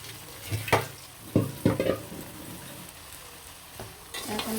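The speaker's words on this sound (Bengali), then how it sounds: "ভালো করে নাড়াচাড়া দিয়ে দেবো" Spiced chicken fries in a pan while a utensil stirs it in several uneven bursts of scraping and clattering over a soft continuous sizzle.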